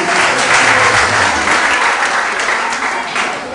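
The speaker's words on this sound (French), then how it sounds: "on l'applaudit, hein, on l'applaudit." Crowd at a film premiere in Chicago applauds loudly and densely throughout, a full, close wall of clapping that eases slightly toward the end, with voices blended in.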